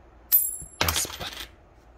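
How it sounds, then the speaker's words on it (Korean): A 100 won coin dropped from 30 cm hits a force sensor with a crisp metallic clink and high ring, then clatters and rattles for about half a second as it settles, heard close in a quiet space. "100원짜리를 떨어뜨렸어."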